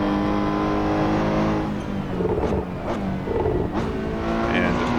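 Radical SR3 XXR race car on slick tires at Road Atlanta, its engine droning loud and steady from inside, with shifts and throttle changes breaking the tone, under someone talking.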